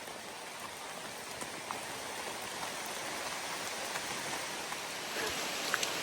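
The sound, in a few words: heavy torrential rain downpour outdoors at a state park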